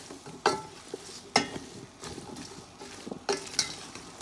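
Soya chunk chowmein tossed with seasoning in a hot pan, a soft sizzle beneath repeated sharp utensil scrapes and clanks against the metal at uneven intervals, close by and without talking.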